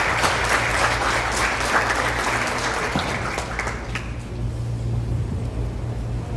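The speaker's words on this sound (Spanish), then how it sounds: "Un fuerte aplauso," Loud, dense audience applause greets a lecture speaker at an academic talk on water quality and mercury pollution in Honduras, holding steady for about four seconds before thinning into scattered claps and low room hum.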